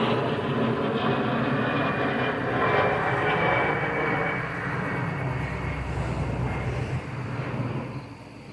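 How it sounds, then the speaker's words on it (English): A steady airplane engine roar drones continuously, loud and broad, like an aircraft passing low overhead, swelling slightly then easing off. "I had to look at that plane."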